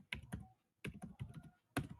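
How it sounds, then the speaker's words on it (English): Typing on a computer keyboard into a chat box, with quick clustered keystrokes in two short bursts, then a single final clack, close and clear with no talking. "I'm typing"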